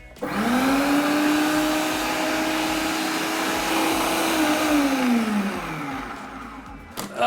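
A kitchen grinder runs steadily while grinding one- or two-day-old bread into crumbs. A loud, continuous motor whine holds an even pitch, then drops in pitch as the motor winds down near the end.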